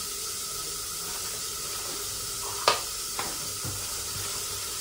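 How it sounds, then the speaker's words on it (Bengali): Steady, loud sizzling of fish frying in hot oil until reddish-brown fills the scene, broken by a couple of sharp clinks and scrapes of a utensil in the pan. "মাছগুলো ভাজা হয়ে গেছে, বেশ লাল লাল ভাজা হয়েছে।"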